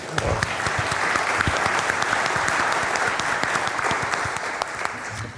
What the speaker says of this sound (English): Applause to our wonderful speakers.